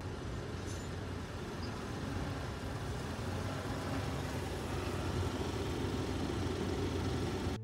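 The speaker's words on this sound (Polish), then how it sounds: "Czas, aby Arbos 3055 wjechał na wagę z przednim tuzem zamiast obciążników." An Arbos 3055 tractor with front wheel drive and a front ballast weight drives onto a scale, its diesel engine a steady, dense low rumble at close range with no talking.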